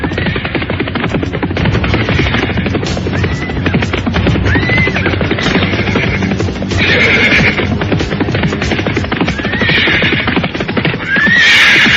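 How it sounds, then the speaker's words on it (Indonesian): Horses ridden by Majapahit soldiers through a village whinny and neigh repeatedly over a dense, constant bed of hoofbeats and movement, loud and close throughout. "prajurit-prajurit Majapahit berkuda menyusuri desa Ganding"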